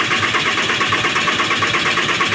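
A Dodge 6.7 Cummins diesel engine cranks over on the starter in a steady rhythmic churn, loud and close, without catching, and no one speaks.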